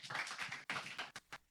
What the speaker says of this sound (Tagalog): Itaas po yung kamay, yung isa pang kamay at pumalakpak sa ating Panginoon.